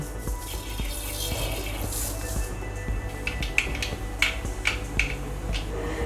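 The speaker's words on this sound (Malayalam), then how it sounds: "എണ്ണ നന്നായിട്ട് ചൂടായിട്ടുണ്ട്. നമുക്കതിലേക്ക് കടുക് ഇട്ട് കൊടുക്കാം." Mustard seeds hit hot oil in a pan while kingfish curry is cooked, a steady soft sizzle broken by several sharp, scattered pops and crackles, close and moderately loud.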